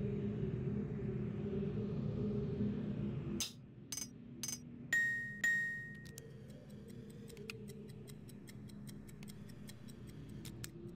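Chimes from the 1997 video game Riven ring out in a short sequence of bright metallic strikes with lingering tones, followed by rapid lighter clinking taps, over a low ambient rumble with no talking.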